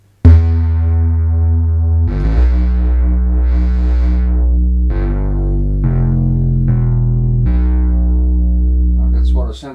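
Korg MS-20 synthesizer with its filter switched to 12 dB mode, playing loud sustained bass-heavy notes one after another. Each note opens bright and then mellows, with a brief voice at the very end.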